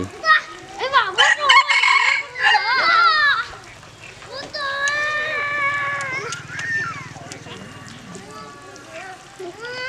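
A rooster crows loudly and close by, two drawn-out calls in a row with chickens clucking around it, while people chat in the background.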